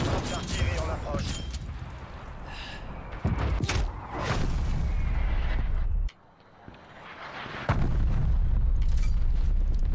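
A Black Ops Cold War artillery strike lands in a series of loud booming explosions, with several sharp impacts and rolling rumble between them and a brief lull partway through, over dense battle noise and voices.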